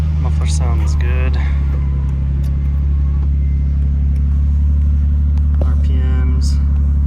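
A Nissan Skyline GTT's engine idles steadily through its muffler with a deep, constant rumble close by, while a person talks over it.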